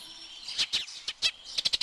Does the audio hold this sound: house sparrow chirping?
yes